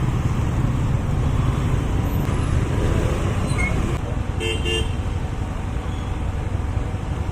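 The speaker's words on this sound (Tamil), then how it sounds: "ரோட் டைவர்ட் பண்ணும்போது பார்த்தீங்கன்னா நல்ல டிராஃபிக் ஆகிட்டு இருக்குது" Dense, steady road traffic in Coimbatore, India, during a road diversion, with a constant roar of engines filling the scene and a couple of brief horn toots partway through.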